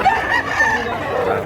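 A Golden Boy gamecock rooster crows once, loud and close, a strained drawn-out call filling the moment at a rural poultry seller's yard in Mantalungon, Cebu.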